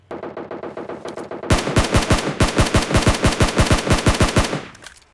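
Automatic SCAR-L rifle fire in PUBG, with a fast string of loud, close, evenly spaced shots following a quieter distant burst, ending abruptly.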